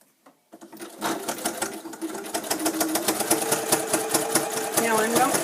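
A sewing machine stitches a zig zag through batting, starting after a brief pause and quickly settling into a steady, fast rhythmic clatter close by, with a person speaking underneath.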